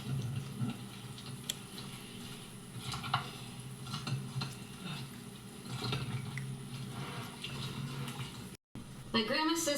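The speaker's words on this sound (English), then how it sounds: "Now you gotta carefully mix this so that it doesn't break up the cornbread too much" Cornbread dressing with turkey broth stirred in a bowl, wet squelching and soft scraping in a steady rhythm, fairly quiet and close, with a person talking over it.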